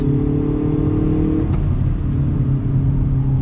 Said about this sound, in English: On throttle, spin the tires a little bit, screeching tires, a happy tire, third gear. Fast shifts out of the DCT.